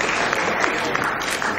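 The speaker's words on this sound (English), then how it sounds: "Can we please give them another round of applause as they come?" An audience at a children's charity centenary celebration in Nigeria claps in a brief, dense burst of applause, with a few louder claps standing out above the crowd.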